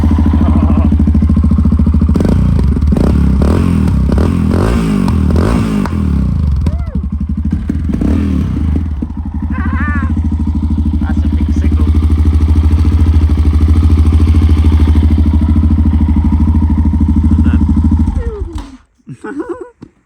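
A fuel-injected Yamaha XT660R single-cylinder motorcycle with its stock exhaust baffles still fitted, revving loudly up close, then settling into a steady thumping idle before cutting off at the end.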